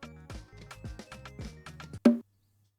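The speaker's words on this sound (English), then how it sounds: "So I have bongo drums right here." Bongo drums in an FL Studio afrobeat pattern tap out a quick run of short, resonant strikes, some with a falling pitch, ending in one louder slap. The hits are close and clear, with no talk.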